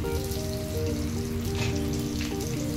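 Slit green chili and a pinch of turmeric frying in hot oil for a Kashmiri horse gram dal, giving a dense, steady close sizzle with faint crackles and a tonal hum running underneath.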